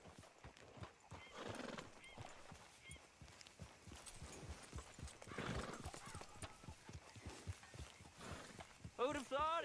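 Horse hooves in the game Red Dead Redemption 2 clip-clop steadily over a road while people talk, and a horse whinnies loudly near the end.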